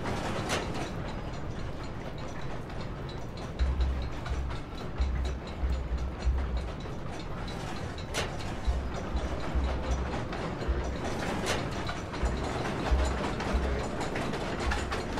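A noisy machine runs in a sewer area of the video game Amnesia: The Dark Descent, giving a steady mechanical rumble with low clanking ratchet-like knocks and occasional sharper clicks, all at a fairly low level.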